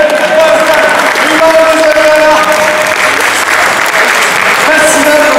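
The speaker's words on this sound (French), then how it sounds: "les applaudissements, mesdames et messieurs!" Loud applause and crowd noise at a hackathon presentation in Quebec City, a continuous wash of clapping with some cheering and faint voices mixed in.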